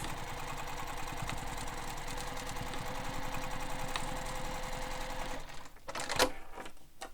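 A sewing machine stitches a bag strap in place, a quick steady mechanical chatter running for several seconds, then stopping for a few sharp clicks and short bursts as it back-stitches.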